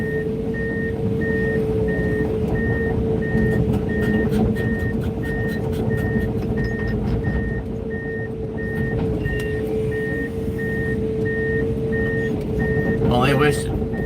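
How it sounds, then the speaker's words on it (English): Steady, evenly spaced backup alarm beeps from a Komatsu 490 excavator repeat throughout over a constant diesel engine drone, with brief clanks and a squeal near the end. "I could cancel that fucking backup alarm, dude"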